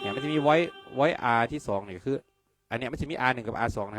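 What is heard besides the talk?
No everyday noise stands out behind the speech.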